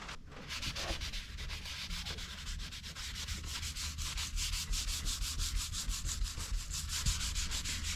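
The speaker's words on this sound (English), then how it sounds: "Now I'll just give the whole place an even sanding" Steady abrasive rubbing of sandpaper on a wooden shelf on a wooden boat, with rhythmic back-and-forth strokes continuing throughout at close range, no voices.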